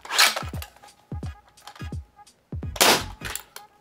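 Rifle shots fire in a quick series from a bolt action rifle, sharp cracks with metallic clatter from spent shells ejecting and tinkling down, several spaced reports close and loud with short quiet gaps between them.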